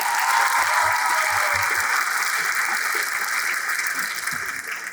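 A dense, continuous round of applause from a seated group at an animation camp, honouring the mentors, steady and even throughout with a slight taper at the close.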